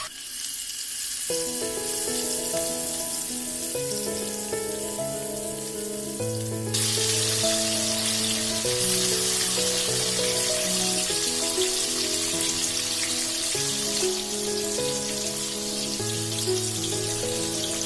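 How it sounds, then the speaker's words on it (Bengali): Rohu fish frying in hot mustard oil, a steady crackling sizzle like rain on a surface, heard beneath continuous melodic background music. "মাছ ভাজার জন্য আমি তেল দিয়ে দিচ্ছি।"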